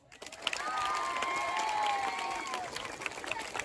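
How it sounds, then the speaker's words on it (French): A school audience applauds in a sustained, even wash of clapping, with a few high whistles and cheers rising over it, heard from a distance at moderate volume. "je veux attendre un tonnerre d'applaudissements"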